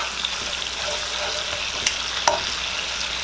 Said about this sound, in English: We gonna kind of stir that in. So it can get infused with that taste.